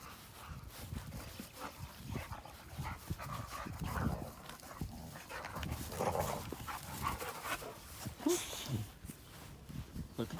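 Dogs heard outdoors among willow trees, giving soft whimpers and panting, with frequent close speech over them.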